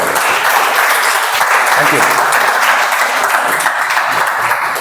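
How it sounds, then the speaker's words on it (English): Audience members at a club meeting clap in a dense, steady wash of applause, loud and sustained across the whole stretch, with a voice speaking briefly over it. "we'll like more enthusiasm from you guys, so you can clap a bit more harder"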